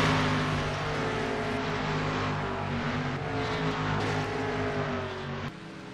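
A video-game race car passing on the Sonoma Raceway road course during a stock-car-style race, heard as a continuous high-revving engine roar that holds loud and steady, shifts pitch slightly, then drops off abruptly near the end.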